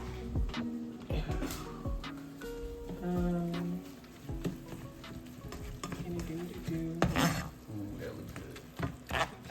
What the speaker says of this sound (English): So right now we're seasoning the meat, cooking it with the onions.